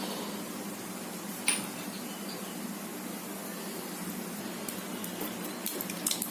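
Faint scattered crackles and pops from mustard seeds sizzling in hot oil, a soft steady hiss underneath with a few sharper snaps.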